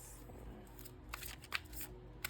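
A deck of oracle cards is shuffled close by but quietly, giving a series of crisp, papery riffles and snaps in uneven bursts over a soft room hum.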